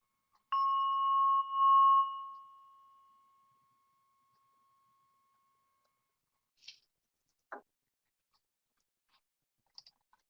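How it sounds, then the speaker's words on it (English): A single bell is struck once as a mindfulness cue, ringing clearly and then fading in a long, sustained tone over several seconds, followed by a few faint small clicks and taps in otherwise quiet surroundings. "Here's a bell as a sound."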